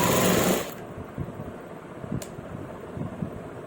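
A sewing machine stitches the neckline of a kameez shirt. A loud whirring burst drops to a quieter, uneven rhythmic chatter of the needle running close by.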